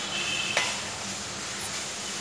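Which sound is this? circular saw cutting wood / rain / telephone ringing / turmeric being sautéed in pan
turmeric being sautéed in pan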